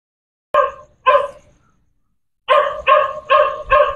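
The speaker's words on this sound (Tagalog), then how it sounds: "baka sugurin ako ng aso" A dog barks twice, pauses, then lets out four quick barks in a row, loud and close, with nothing else around.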